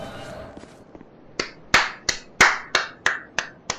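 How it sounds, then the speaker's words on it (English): Sharp, evenly spaced hand claps from a clapping gesture in the Dark Souls 2 video game ring out loudly, about eight crisp claps in a steady rhythm after a few faint taps. "Claps for you, sir."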